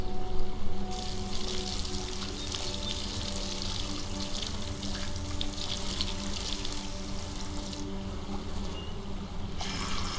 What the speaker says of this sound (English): Alright, I gotta give them water.